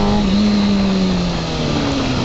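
A motorcycle engine held high and steady while popping a wheelie, a loud, close, continuous drone whose pitch sags slightly toward the end.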